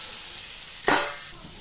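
Potatoes and spices frying in a pan, a steady soft sizzle with a sudden brighter burst of spitting midway that gradually settles back to a gentle crackle.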